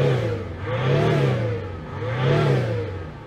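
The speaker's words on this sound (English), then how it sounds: "Does sound cool. I like big diesels." A big diesel engine in a Citroën C6 revs up twice, each time rising and falling in a smooth, swelling roar, close and fairly loud with a slight clatter underneath.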